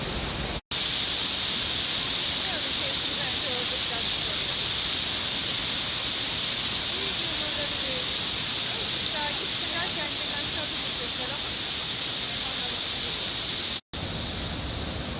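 Steady, dense rushing of falling water at the Rhine Falls fills the whole stretch, a broad hiss-like roar with no break, close and loud.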